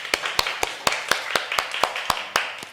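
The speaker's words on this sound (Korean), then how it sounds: "방송팀을 위해서도 함께 박수합시다." A church congregation at a summer retreat claps for the broadcast team in an even, rhythmic beat of about four sharp claps per second, close and distinct, with no voices over it.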